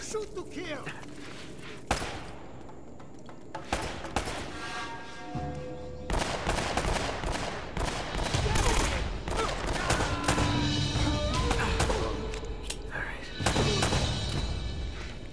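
Gunfire from the video game Uncharted, with sharp shots and bursts of automatic fire crackling over a music and combat backdrop, dense and loud across the stretch, with a voice talking at points.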